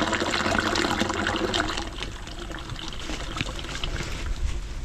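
Water rushes and gurgles steadily through a blocked drain during a flush, a loud, continuous wash of flowing liquid that eases slightly partway through.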